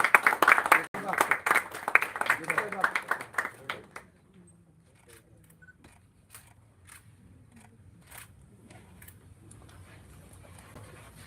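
An audience applauds warmly at a live book release event, with dense clapping for about four seconds that thins to scattered claps and then stops.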